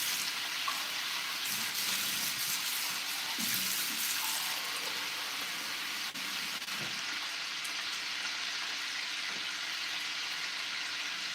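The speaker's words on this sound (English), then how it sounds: "So I'm adding more, and I'm just going to add some more water." Water runs into a pot of green beans on the stove and hisses against the hot pan as a steady, continuous sizzle and splash that lasts several seconds, with no talk over it.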